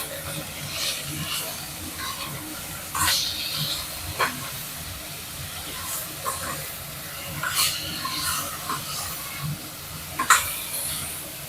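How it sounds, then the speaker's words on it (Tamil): Bitter gourd sautéing with a little salt in a pan gives a steady soft hiss and sizzle, with louder crackles and pops that flare now and then as the pieces are stirred. "கொஞ்சமாக சால்ட்டு போட்டு வதக்கிக்கலாம்."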